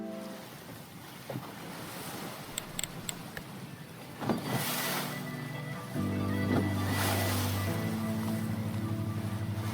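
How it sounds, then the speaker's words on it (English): Ocean waves lap and wash against moored boats in a breezy seaside scene from the game Chasing Sunsets, a steady surf ambience that builds as a soft musical tone fades in beneath it, with no talking. "The sounds of the waves hitting the boats with a warm breeze going through the air"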